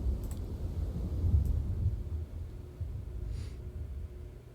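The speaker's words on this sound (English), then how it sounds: "I still hear thunder" Thunder rolls as a low, distant rumble that swells and fades over several seconds, with faint bumps and breaths nearby.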